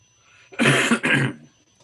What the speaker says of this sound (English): And no coughing into the microphone